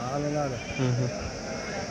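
A sheep bleats in wavering, nasal calls close by at a sheep market, with a voice murmuring underneath.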